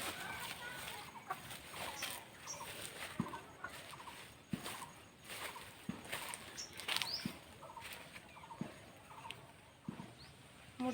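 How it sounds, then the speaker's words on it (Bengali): A live country (desi) chicken clucking softly and fairly close, with scattered scratchy pattering and taps around it, and a person talking at times. "আমি আজকে একটি দেশি মুরগি নিয়ে এসেছি।"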